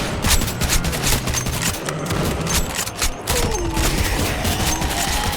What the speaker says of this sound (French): je vais activer la tourelle.